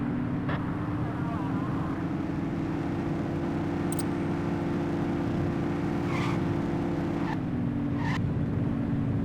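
A car in the game The Precinct drives past at speed, its engine a loud, steady drone holding one pitch before dipping slightly, with brief sharp clicks and tones scattered over it.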